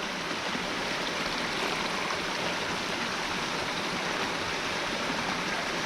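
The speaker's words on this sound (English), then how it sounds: "this is always cold, and this is running water" Cold running stream water flows in a steady, close, broadband rush, continuous and unbroken, with no voices.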